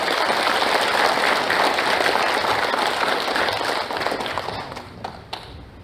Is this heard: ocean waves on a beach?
no